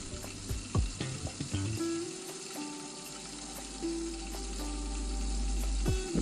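Pelmeni dumplings sizzle in a pan on the ice while ice fishing, a soft, steady frying hiss nearby with occasional clinks and scrapes and a low rumble beneath.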